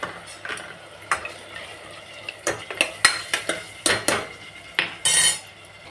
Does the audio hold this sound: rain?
no